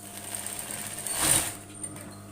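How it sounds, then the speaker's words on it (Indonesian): A sewing machine runs a short burst of lock stitching on a half-circle skirt waistband, rising to a brief close whir in the middle and then easing off. "di bagian sini kita kasih kunci jahitan ya"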